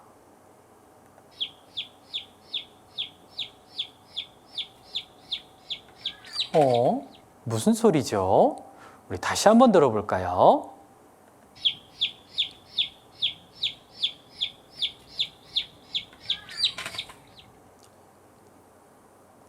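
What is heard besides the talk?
baby chick peeping, guessing game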